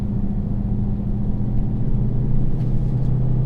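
Dodge Demon 170 engine on a race track, a steady loud low rumble from the car throughout with no voices over it.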